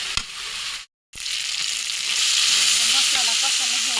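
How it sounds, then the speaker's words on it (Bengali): Tomato and spice paste sizzles steadily in a hot pan, a loud, continuous frying hiss that drops out for a moment and then returns slightly brighter, with faint stirring scrapes. "একটু কষিয়ে নেবো ভালো মতো"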